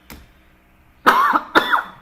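Two harsh coughs in quick succession from a person recovering from a viral illness, close and fairly loud, after a faint earlier throat sound.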